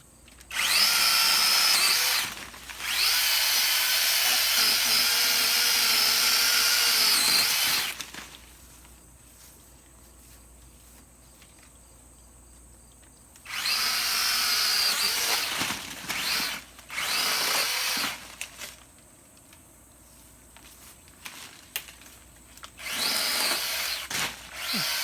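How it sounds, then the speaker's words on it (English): A Saker mini chainsaw trims tree branches in several loud, high-pitched buzzing bursts of a few seconds each, separated by quieter gaps while the saw idles or stops. "this is the new Saker mini chainsaw"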